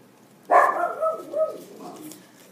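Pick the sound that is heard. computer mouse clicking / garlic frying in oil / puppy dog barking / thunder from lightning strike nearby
puppy dog barking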